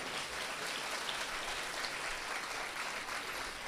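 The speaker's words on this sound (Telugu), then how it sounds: "ఇది విన్నాక కూడా అమ్మకి చప్పట్లు కొట్టకపోతే పాపమే." Faint, distant applause from a church feast audience at the Gunadala Marian shrine, a soft continuous patter of many hands that sounds almost like rain.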